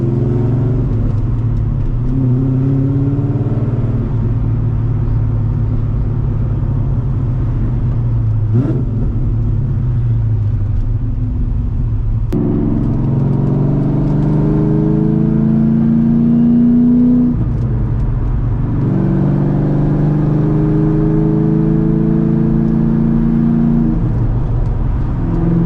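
A cammed C5 Corvette V8 engine drones steadily from inside the car while driving, with a loud lopey rumble that rises through gears in several revving pulls and drops on shifts, no talk.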